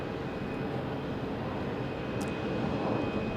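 A FedEx jet passes at Phoenix Sky Harbor, giving a steady, broad engine roar at moderate distance that holds evenly through the short stretch with no talk.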